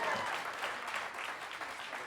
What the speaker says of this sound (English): We have a round of applause